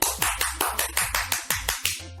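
A steady round of hand clapping, about ten sharp, evenly spaced claps in quick succession, close and fairly loud with no talking.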